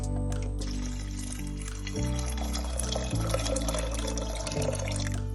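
Water pours steadily into a pressure cooker holding soaked chickpeas with baking soda, a continuous splashing fill that runs for several seconds over a humming, tonal background.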